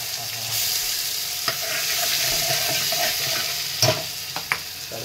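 Tempering of peanuts and split dal frying in hot oil, a steady close sizzle with occasional sharp pops and stirring clicks, no voices.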